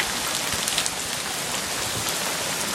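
Heavy rain pours onto a street in Wildwood where there are hardly any sewers. It makes a dense, steady, close hiss of drops on wet pavement, with no voices.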